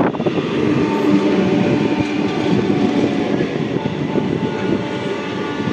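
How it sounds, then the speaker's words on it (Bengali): Pink-faced EMU local train of the Howrah division, on the Bardhaman–Howrah chord line, passing close by with a loud, continuous rumble and rattling of wheels over the track throughout. "হাওড়া ডিভিশনের পিঙ্কি, অর্থাৎ পিঙ্ক ফেস EMU।"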